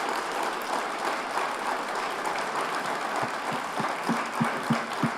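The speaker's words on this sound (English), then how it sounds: "let's do one more round of applause for these individuals up on the stage." An audience at an evening entrepreneurship event gives the people on stage a round of applause, dense clapping with a few louder claps near the end.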